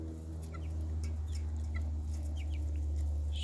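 Backyard chickens cluck in short, scattered bursts over a steady low hum, fairly close and moderately loud, with no voices.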